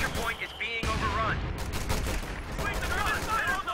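Machine gun fire in the WWII strategy game Company of Heroes 2, steady rattling gunfire and battle noise throughout, partly under a commentator's voice.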